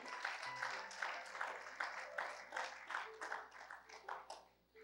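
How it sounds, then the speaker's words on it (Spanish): A church congregation claps in praise during a sermon, a soft, fairly distant patter of many hands in an uneven rhythm that tapers off at the end. "dele un aplauso al Señor"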